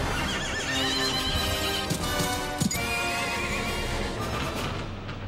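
A horse gallops with its rider through a foggy Sleepy Hollow film scene, rapid hoofbeats and a whinny sounding loud within a dense, full soundtrack.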